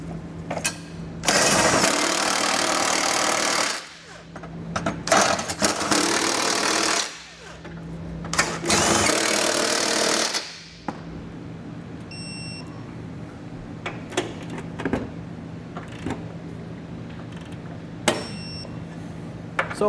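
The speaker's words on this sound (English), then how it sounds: "we can go ahead and tighten and torque it to the specifications and our instructions using a 22" Trailer hitch bolts on a 2016 Land Rover Discovery being tightened with a 22 mm socket for a Curt Class III hitch: loud bursts of rattling power-tool driving alternate with pauses, then quieter clicks and a few faint beeps.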